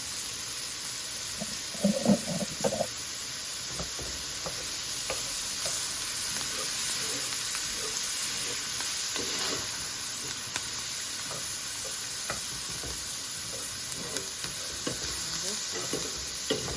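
A whole stick of butter sizzles steadily in a pan of seasoned potatoes, a continuous bright frying hiss with a few soft stirring knocks near the start, close and moderately loud with no talking.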